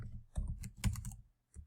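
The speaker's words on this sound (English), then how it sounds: "go over to a different browser and you're going to type in" Keystrokes on a computer keyboard while entering a web address in a browser, a quick run of soft, close clicks in short bursts with a brief pause before a final tap.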